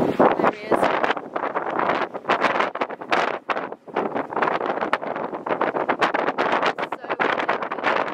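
Gusty wind buffets the microphone aboard a sailboat riding at anchor off the UK coast, a steady loud rushing roar with irregular thumps and bursts throughout.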